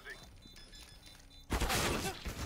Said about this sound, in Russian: А кто стрелял с калаша?